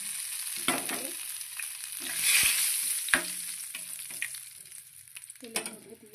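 Whole cumin, bay leaves, cloves and cinnamon sizzling in hot oil for a Bengali raw-banana kofta curry, a steady loud hiss broken by sharp scrapes and clatters of a spoon against the pan.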